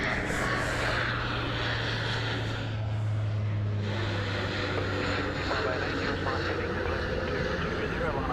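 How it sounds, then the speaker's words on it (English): A Malaysia Airlines Airbus A330 on base approach to Sydney Airport, a steady broadband jet roar with a low engine hum throughout, distant to moderately near, with people talking over it. "This is Malaysian 123. It's an A330."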